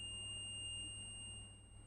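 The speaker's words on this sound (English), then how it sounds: "we can hear a big beep on the PPBUS line, which means we have a short on the PPBUS line" A multimeter continuity tester gives one long, steady high-pitched beep while probing the PPBUS line on a shorted 14-inch M1 Pro MacBook Pro that will not power on. The tone is continuous and quite faint, with no voices.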